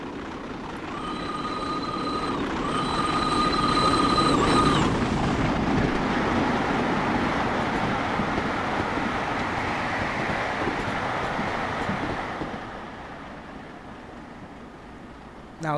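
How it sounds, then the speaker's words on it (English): Flying Scotsman steam locomotive and its train rushing past on the Fife Circle Line in Train Simulator 2021: a loud rolling roar with high squealing tones early on, building, holding, then fading away near the end. "I want you guys to hear the amazing sound of this consist of this train flying through"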